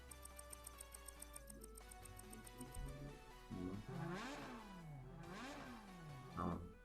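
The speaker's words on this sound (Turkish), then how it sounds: "motor sesini biraz kısacağım" A car engine in the racing game Asphalt 8: Airborne revs and drops in repeated swooping pitch sweeps, loud and up close over a steady ticking pulse and background music.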